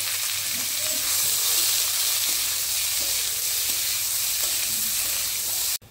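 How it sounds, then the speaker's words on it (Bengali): Onions frying hard in hot oil for a home-style chicken curry, a dense, steady sizzle that fills the whole clip without pause before cutting off abruptly at the end. "খুব বেশিও লাল না, মোটামুটি লাল করে ভালো করে ভেজে নিয়েছে"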